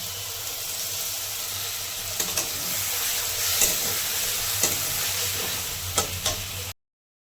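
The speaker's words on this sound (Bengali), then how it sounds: "টমেটোটা একটু ভেজে নিব করছিলাম এই মশলাটা দিয়ে দিচ্ছি" Tomato and spices fry in a pan for a fish curry, a steady close sizzle with occasional scrapes and clinks of stirring, no talking.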